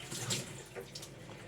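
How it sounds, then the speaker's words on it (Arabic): A kitchen tap runs water in a soft, steady stream for hand washing, with faint splashing, close but quiet. "ثواني اغسل ايدي بس."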